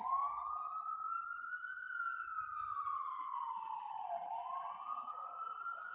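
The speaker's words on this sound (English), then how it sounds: "Do you hear the ambulance?" An ambulance siren wails continuously, its pitch rising and falling in a slow sweep, loud and fairly close.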